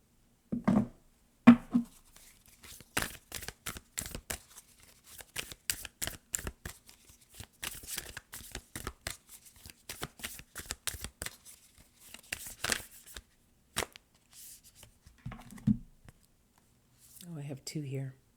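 Angel and guardian oracle cards are shuffled by hand in a long run of rapid, close riffling bursts, quiet and crisp, with brief speech at the start and end.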